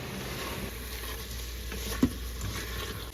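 Large chopped tomato pieces stirred into a hot frying pan for chicken noodle soup, a soft steady sizzle with a single brief scrape of the spoon, quiet and close.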